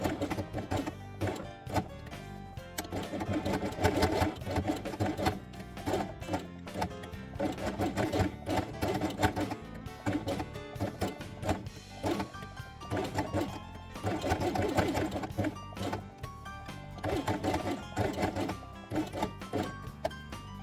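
A sewing machine stitching felt pieces for a dollhouse, running steadily with a fast mechanical needle rattle, close and continuous throughout with brief uneven pauses.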